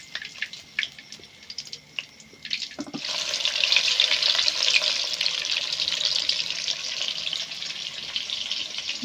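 Pangas fish fries in hot oil with a broad, steady sizzling hiss that swells in after a few seconds of lighter crackles and spatters, close and continuous without speech.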